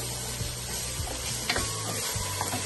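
Lardons frying in a pan for a stuffed pumpkin dish, giving a steady, close sizzle with a few soft scrapes and clinks of stirring.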